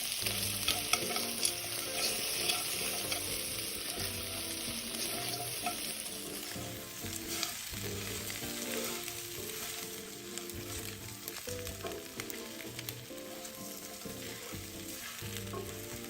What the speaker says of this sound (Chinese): 一直拌炒至冰糖化開